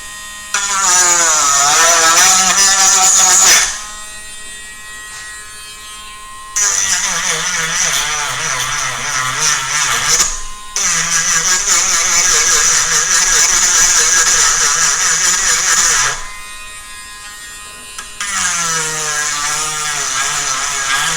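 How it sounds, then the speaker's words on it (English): A Dremel rotary tool cutting and sanding a wooden ring whines loudly and close in three long runs, its pitch wavering under load, separated by short quieter gaps as it eases off the wood. "even with a Dremel, this does take quite a while"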